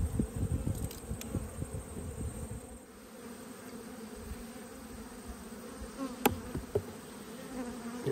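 Honey bees buzzing steadily around an opened hive in autumn, a dense continuous drone close by with a few louder passes of individual bees.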